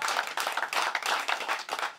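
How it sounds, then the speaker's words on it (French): Church congregation applauding during a worship service, a dense continuous patter of clapping hands that swells in uneven waves, fairly close and filling the room. "Nous acclamons."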